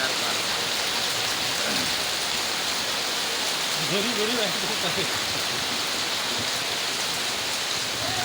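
Steady rain falls across a village lane, a dense hiss continuing throughout at moderate level, with a voice talking briefly in the middle.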